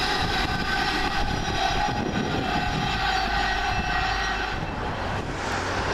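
London Midland passenger train passing at Coseley on the Birmingham to Liverpool Lime Street service, a loud sustained rumble and rush of the passing train with a high metallic tone, heard close and without voices.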